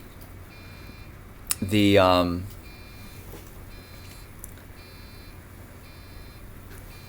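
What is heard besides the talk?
beeping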